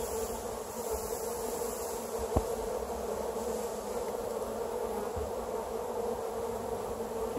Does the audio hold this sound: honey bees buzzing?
yes